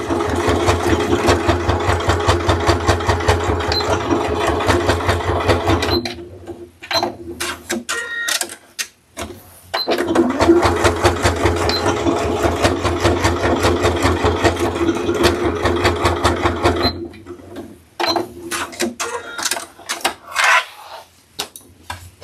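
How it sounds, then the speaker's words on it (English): A sewing machine runs two rows of stitching across a purse strap, its rapid needle chatter coming in two sustained bursts separated by pauses with small clicks and handling noises. "I'm going to run 2 rows of stitching across there to create an adjustable, removable strap."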